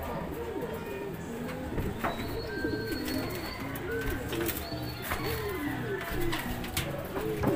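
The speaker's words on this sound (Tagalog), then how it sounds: "Ay, mga kalapatid, sumasok na sila." Racing pigeons coo repeatedly while arriving at a loft during training in San Narciso, Quezon, with steady layered cooing and occasional chirps close by, and people talking faintly in the background.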